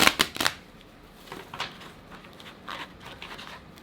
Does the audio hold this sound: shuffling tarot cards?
yes